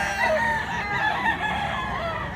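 A father's red rooster crows loudly and close by at a rural spot in Mantalungon, Cebu, one drawn-out call filling the moment with no voices.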